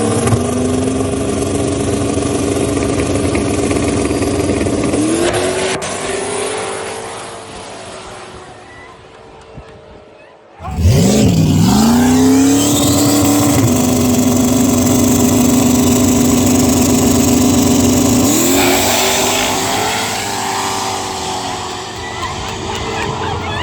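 A street race car at the Hinton Street Races idles and revs, falls briefly quiet, then roars off under hard acceleration, loud and close, its engine pitch climbing and holding.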